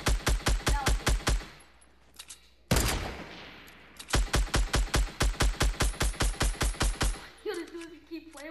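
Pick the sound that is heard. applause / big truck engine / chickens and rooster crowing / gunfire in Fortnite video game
gunfire in Fortnite video game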